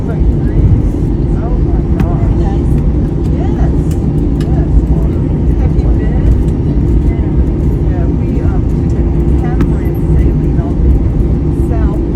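An airliner taxis on the runway after landing, heard as a steady low cabin rumble that runs throughout beneath a voice speaking over it.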